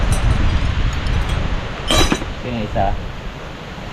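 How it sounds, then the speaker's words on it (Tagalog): Strong wind buffets a home garden, a constant low rumbling roar against the microphone, with a brief clatter and someone speaking over it. "Grabe, lakas ng hangin eh"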